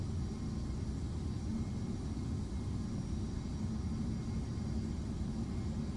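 An airplane engine in a flight simulator video game drones steadily, a continuous low rumble at an even level throughout with no voices.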